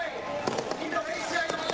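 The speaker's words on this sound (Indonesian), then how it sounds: "ledakan kembang api" New Year fireworks burst over Jayapura, several sharp cracks and pops at a distance over a steady background, with a voice talking throughout.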